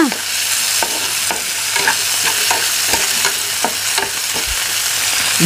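Onion and tomato fry in a pan while a spatula stirs them in regular strokes, each scrape standing out over a constant bright sizzle, close and loud, no voices.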